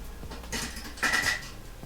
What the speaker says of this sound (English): I'm going to take it off and ladle it into our jars.